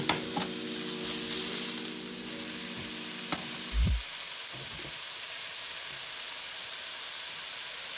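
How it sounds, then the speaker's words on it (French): Porcini mushrooms sear in hot olive oil in a pan, giving a close, steady sizzle that swells briefly near the start, with a few soft knocks and scrapes of stirring, then settles into a quieter, even frying hiss. "Lorsque l'huile est bien chaude, ajoutez les cèpes. Laissez saisir sans trop les remuer."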